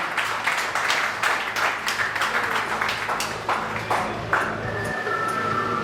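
An audience claps at an oath-taking ceremony for clerks' association officials, with scattered, uneven claps and a few sharper individual hits that gradually thin out, faint tones lingering near the end.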